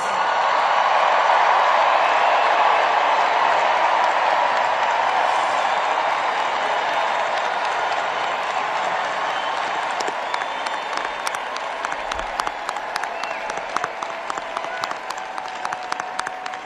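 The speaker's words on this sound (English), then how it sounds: "please stand so that we can give you the appropriate applause" A large commencement crowd at Howard University applauds the standing graduating class of 2023, a long, loud, sustained wash of clapping and crowd noise that gradually thins toward the end into more separate, distinct claps.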